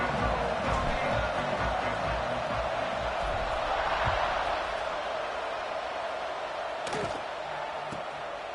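A stadium crowd at a college football game roars steadily as the teams set up for kickoff, with a broadcast commentator talking over the continuous wall of noise.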